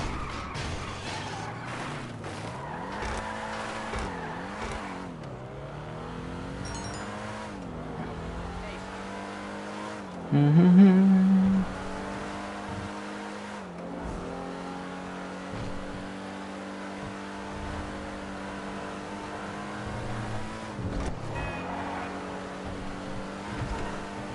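A car engine in a GTA video game revs up and down repeatedly, its pitch swooping with gear changes and a short loud burst partway through, continuous and close throughout.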